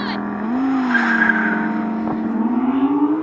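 A 620hp Audi R8 GT launches in a drag race, its engine note climbing steadily while a sustained tyre squeal rises over the loud, continuous roar for about three seconds.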